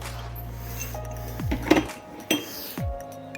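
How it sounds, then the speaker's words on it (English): Metal sockets from a Blue Point socket set clinking as they are handled during a Ford XD Falcon Barra engine build, a few sharp clinks and rattles over a steady low hum. "blue point socket set."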